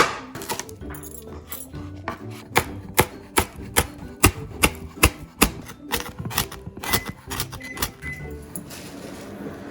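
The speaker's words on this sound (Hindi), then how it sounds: "यहाँ पे मैंने लिए 4 हरी मिर्चें, वो भी इसी तरह बारीक बारीक इनको मिक्स्ड करेंगे" Four green chilies being finely chopped with a knife on a board, a run of sharp, rapid rhythmic knocks, close and loud, speeding up in the middle before tapering off.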